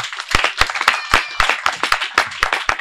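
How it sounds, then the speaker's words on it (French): Church congregation clapping in praise of the Lord, a run of sharp, loud, roughly rhythmic handclaps close by, with a few scattered voices underneath. "Est-ce qu'on peut acclamer pour le Seigneur?"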